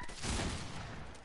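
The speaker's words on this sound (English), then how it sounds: "And there's more people shooting me." Gunshots from players firing in a Fortnite Duos match, a dense volley of shots swelling up close and rattling on for about a second, moderately loud with no talk over it.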